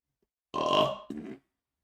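A single loud, drawn-out burp, close and alone, rising abruptly and running about half a second before a shorter second gulp-like tail cuts off into silence.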